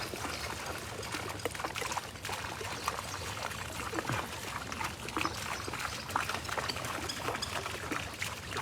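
Water fountains spout upward and splash in a continuous, fairly loud outdoor rush, with short surges of spray over a steady watery hiss.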